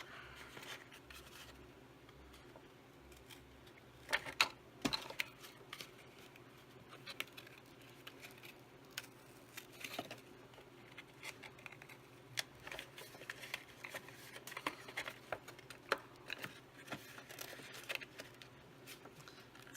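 Scissors snip through paper along a score line in small, irregular cuts, soft crisp clicks and rustles close by and fairly quiet, with brief pauses between bursts.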